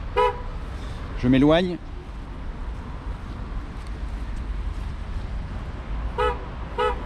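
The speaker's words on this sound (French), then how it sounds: "J'ai mis le klaxon dessus, j'appuie." A Tesla Model 3/Y horn, triggered by a programmed button, honks in short toots near the start and again near the end, with a brief spoken remark and quiet outdoor background in between.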